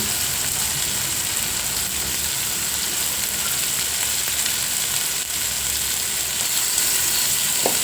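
Red tomatoes frying in a spiced masala for a rohu fish tomato chutney curry, producing a loud, dense and continuous sizzle that stays even throughout, with no talking.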